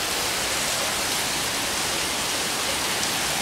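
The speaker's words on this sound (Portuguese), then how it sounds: "A chuva recomeça." A strong nighttime downpour fills the air with constant broadband rushing, uniform and close, without any talking.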